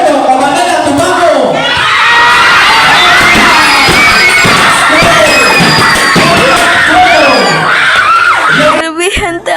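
Cheerleaders and a crowd at a volleyball game shout, scream and cheer loudly and without pause at close range, with whoops rising above the din and voices mixed through it.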